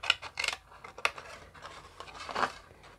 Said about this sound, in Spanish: todas las solapitas donde se dobla vamos a cortar